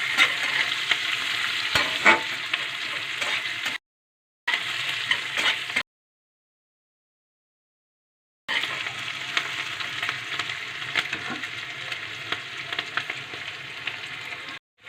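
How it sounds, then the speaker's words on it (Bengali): Onions and green chillies fry in hot oil for a fish-head chorchori with pumpkin and potato. A steady, close sizzle with stirring scrapes is broken by two short silent gaps. "পেঁয়াজ আর কাঁচা লঙ্কাটা একটু ভালো করে ভেজে নেব।"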